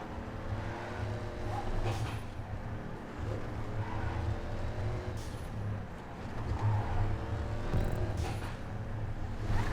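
A Dominator race car being driven hard in GTA 5, its engine droning steadily with a low rumble and shifting tonal whine throughout, moderately loud and continuous with no talk.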